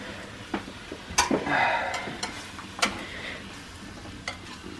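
Whisk clicking and scraping against a bowl in a home kitchen, several sharp irregular taps and strokes with a short rush of mixing in between, close and moderately quiet.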